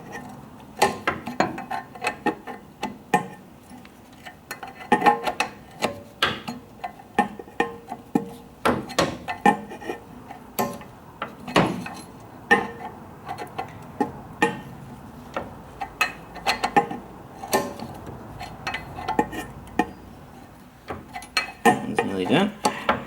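Ford wrench tightening fittings on a Ford Model T radiator, a run of light metallic clicks and taps close by in irregular bursts, with a voice talking at times among them.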